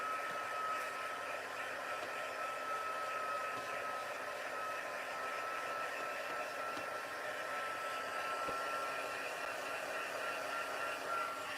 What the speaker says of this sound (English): So I'm just going to hit that with the heat tool for just a second